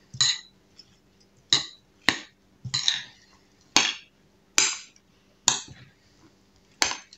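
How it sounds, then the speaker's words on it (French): Salad is tossed in a lunch container, giving about ten sharp, bright clinks and taps at irregular intervals, close and fairly quiet against a silent background. "Je vais bien tout mélanger."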